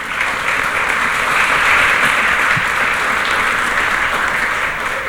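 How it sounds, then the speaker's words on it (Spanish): Audience applause for a translator at a wine lecture, a steady, dense wash of clapping from a full room that holds evenly throughout without any speech. "Un aplauso para ella"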